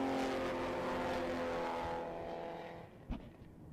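Race cars roar past on an oval track in the closing laps of a season-opening feature race, a dense sustained engine drone that slowly fades, with a brief sharp burst near the end.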